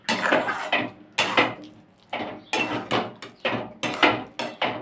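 A spatula scrapes and stirs masala in a pan while cooking a spinach dish. About eight loud, rhythmic strokes sound close up, each a quick metallic scrape that fades out, with no talking.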